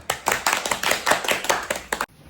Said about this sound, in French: On applaudit mamie.